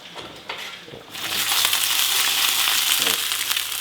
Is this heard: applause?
no